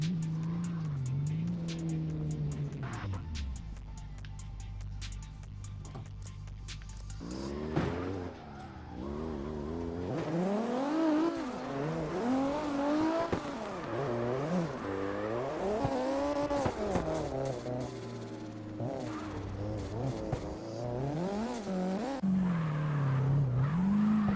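A drift car engine revs and drops repeatedly while tires squeal through long slides, loud and continuous with wavering pitch, in the driving game CarX Drift Racing Online.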